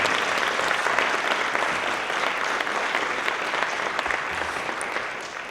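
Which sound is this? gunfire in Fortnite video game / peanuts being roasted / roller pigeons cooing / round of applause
round of applause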